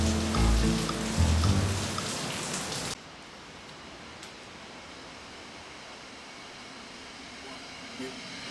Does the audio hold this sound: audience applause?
no